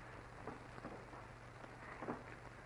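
Steady rain falls through a stormy night in an old Mexican film drama, a dense even hiss with a low hum beneath and a few soft patters rising briefly, no voices.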